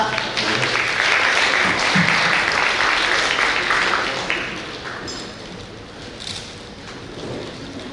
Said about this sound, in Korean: 두 분 다시 한번 박수로 모시겠습니다.